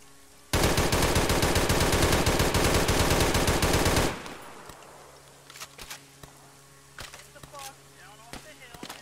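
Automatic gunfire in the military video game Arma 3: a single continuous loud burst of rapid shots lasting several seconds, then scattered distant single shots and faint ambient battlefield noise.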